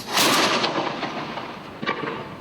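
A cannon fired at a historic quay during a heritage education visit: one loud, close boom at the start with a long rumbling tail, then a second sharper report near the end.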